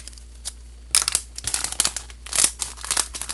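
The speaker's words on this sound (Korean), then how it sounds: "그냥 가위로 뜯을게요." Scissors snip and crinkle through the plastic packaging of a roll of double-sided tape, a quick series of close, crisp cuts and rustles with no talking.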